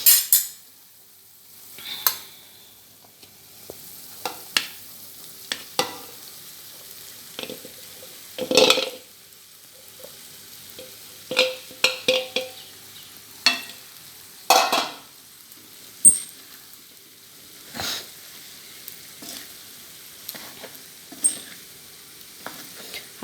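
Soaked sabudana is stirred into a hot tempering in a pan for fasting-style sabudana khichdi. Sparse spoon scrapes and clinks stand out over a faint sizzle, coming in irregular bursts separated by quiet gaps.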